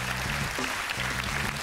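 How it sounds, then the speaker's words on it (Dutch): Warm studio audience applause greeting a TV guest, a steady dense wash of clapping filling the whole short stretch, with faint low music tones underneath. "Geef een warm applaus, dames en heren."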